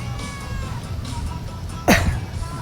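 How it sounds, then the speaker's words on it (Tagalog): Hungry pet cat meowing outdoors on a windy evening, one loud, sharp rising-then-falling meow near the end after a low breezy background, close and clear. "Yan yung pusa namin, oh."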